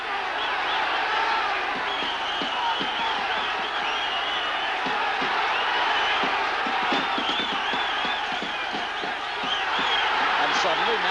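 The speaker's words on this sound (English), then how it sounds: "Charlie's fans begin to stand up all around the ringside and cheer for their man" Boxing fans at ringside roar and cheer for their fighter in a dense, loud crowd swell that holds for the whole stretch, with shouts rising within it.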